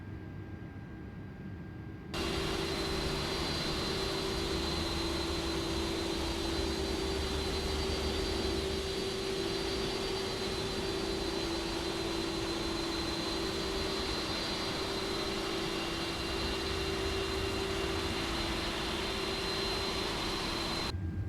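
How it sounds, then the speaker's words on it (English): An Airbus A330-300 taxiing in Microsoft Flight Simulator 2024 makes a steady, high jet-engine whine over a broad roar. It swells in after a quieter start and holds constant, with no voices. "And then we can start our taxi to our runway."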